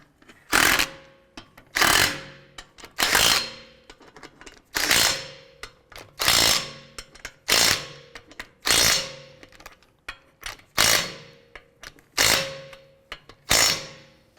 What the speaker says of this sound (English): get these all threaded in by hand. Once we have those installed, let's go ahead and snug them down